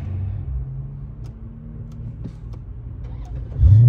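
A Pontiac G8 idles with a low, steady rumble close by, then its engine turns back on with a sudden louder surge and whine at the end.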